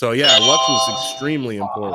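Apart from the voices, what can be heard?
InDrive app ride request notification chime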